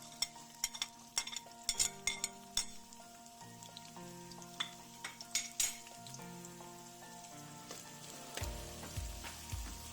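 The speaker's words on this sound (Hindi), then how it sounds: "ऑयल गर्म हो चुका है, इसमें हम पहले वाइट अनियन डालेंगे।" White onion hitting hot oil in a pan and frying for mutton saag, a steady close sizzle with clinks and scrapes of a spoon stirring, no voices.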